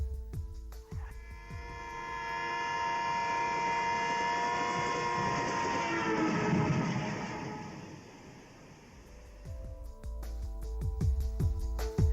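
A passing train's whistle sounds as a long sustained harmonic tone that swells, then slides lower in pitch as it recedes and fades away, with low rumbling beneath and scattered clicks before and after.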